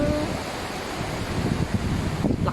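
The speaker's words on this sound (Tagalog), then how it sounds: "Lakas ng hangin!" Strong wind on Sharp Peak in Sai Kung, Hong Kong, roaring and buffeting a nearby microphone in a dense continuous rush with low rumbling gusts and no talk.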